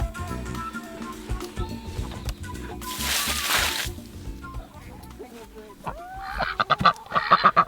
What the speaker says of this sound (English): we're just out here feeding the ducks this morning.